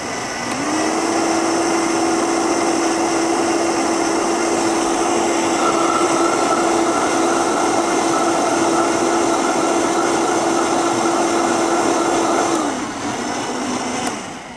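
A blender runs steadily for about twelve seconds, pureeing a cashew and vegetable soup until creamy, with a loud continuous whir that holds one pitch and then cuts off near the end.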